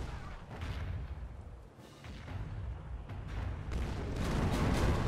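Ship cannons firing in the naval video game Age of Pirates 2 during a fight against a Spanish armada, a series of deep booming shots and rumbling blasts over steady low background noise.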